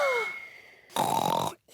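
A cartoon pig's voice imitates loud snoring: a long rumbling inhale breaks into a harsh, buzzing snort that cuts off abruptly, heard alone and close.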